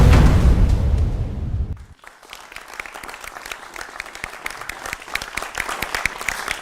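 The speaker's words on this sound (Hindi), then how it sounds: "आपके लिए जोरदार तालियां।" A loud roar of applause from a large crowd fades out, then lighter scattered clapping continues steadily at a distance.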